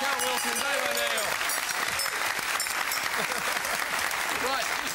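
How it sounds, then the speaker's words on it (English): Studio audience at a Christmas episode of a TV music quiz show breaking into sustained, dense applause, loud and continuous, with a voice speaking over it. "Ladies and gentlemen, a round of applause for Ryan Shelton, Cal Wilson and Dave O'Neil"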